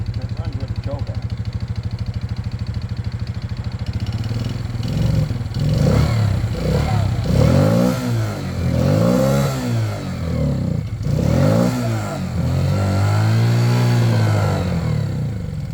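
A Yamaha Grizzly 80 ATV engine idles with the choke on, then revs up and down in uneven surges that sit loud and close, with a voice speaking over it.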